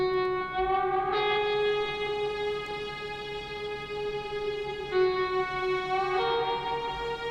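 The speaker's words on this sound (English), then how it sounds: "There you go, the strings and the guitar together." Sustained strings and an electric guitar lead play a melody together in a post-rock arrangement, steady and full with long held notes and occasional swells, no voices.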